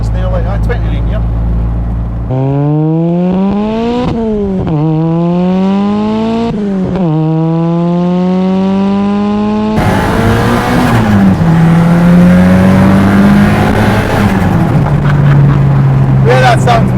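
Cosworth-powered four-wheel-drive Ford RS Turbo launching, loud and close, with several hard rising revs cut by sharp gear changes, then a raspy full-throttle pull and shift as it goes.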